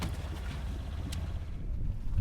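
Sailboat under sail with a failed engine, a steady low rush of wind and water with faint splashes, continuous and moderately loud, with no talk.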